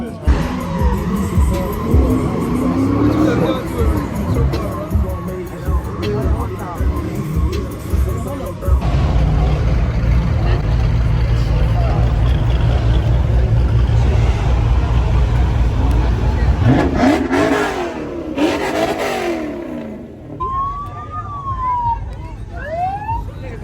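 An 800-horsepower SRT car revs hard and skids at a legal pit event, with loud, sustained engine roar and tire noise, rising and falling pitch sweeps, and voices talking over it.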